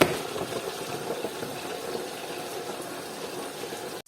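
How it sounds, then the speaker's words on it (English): Fish frying in oil for a Nigerian chicken and fish stew gives a steady, moderately quiet sizzle and bubbling hiss that runs evenly throughout, with no talk. "now I am frying"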